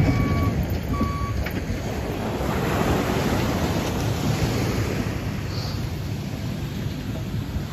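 Ocean surf rolling onto a Santa Cruz beach, a steady broadband wash of waves at close range, with faint beeping from working machinery near the start.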